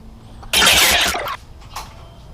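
A Honda CBR150R V3 motorcycle fitted with a Yoshimura Alpha carbon exhaust, silencer on, gives a loud, close burst of revving that lasts under a second before falling back to a quieter idle with a small second blip.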